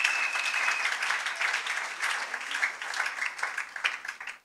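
A church congregation applauding the Lord: dense, sustained clapping from many hands, steady and close, fading out at the very end.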